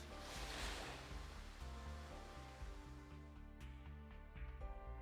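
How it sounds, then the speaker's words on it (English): Ocean waves crashing in the Super Robot Wars V video game: a steady, loud surf wash that swells early and holds under a layered musical score throughout. "Air feels a bit salty, and I can hear. Are those waves crashing?"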